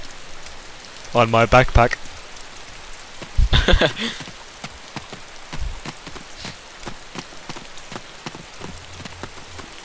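Rain falls steadily in the DayZ video game, a soft continuous patter running throughout the scene while someone talks over it in two short bursts.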